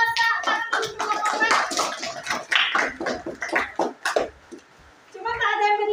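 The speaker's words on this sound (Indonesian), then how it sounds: "Kita beri tepukan tangan untuk kelompok" A classroom claps for a student group after its presentation, with a scattering of hand claps mixed under talk and student voices throughout.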